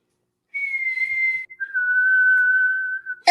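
A person whistles two long steady tones, the first higher and the second lower, clear and close in an otherwise quiet room, ending with a sudden bump.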